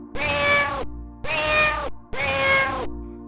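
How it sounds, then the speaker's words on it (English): A cat in a video game meows three times in a slow, even rhythm, each call long, loud and close, with short pauses between them. "And a sleeping cat."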